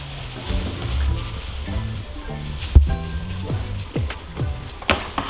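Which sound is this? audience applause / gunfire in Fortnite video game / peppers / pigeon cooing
peppers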